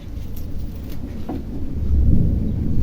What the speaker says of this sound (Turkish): gök gürültüsü gürlemesin lütfen bu özel günümde